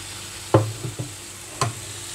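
Prawns in frying masala get stirred in a pan, a couple of sharp scrapes and knocks of the spoon rising over a quiet, steady sizzle.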